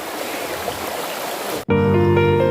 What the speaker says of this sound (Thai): มีลำธารไหลผ่านน้ำ